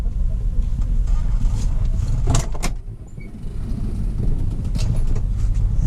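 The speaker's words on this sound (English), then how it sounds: "this truck does not bobtail well. It bounces you all over the place" Semi truck cab driving bobtail with no container or trailer, a steady loud low rumble from inside with rattles and a couple of sharp clunks as it bounces along.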